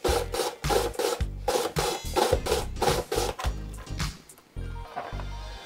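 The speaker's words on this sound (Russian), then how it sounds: "Теперь мы берем огурец и натираем его на крупной терке." Cucumber is rubbed on a coarse grater in a home kitchen, making rapid, rhythmic rasping strokes close up, about a dozen quick scrapes in a row with a short pause before the last few.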